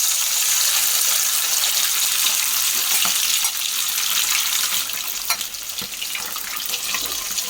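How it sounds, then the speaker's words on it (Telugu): Boiled chicken pieces hit hot oil for a chicken pickle, raising a loud, steady, close hiss of frying that stays dense throughout with a few faint knocks underneath. "ఇప్పుడు ఆయిల్ కాస్త హీట్ అయింది సో మనం ఉడకబెట్టుకున్నాం కదా కాస్త వాటిల్ని ఆయిల్లో వేస్తున్నాం"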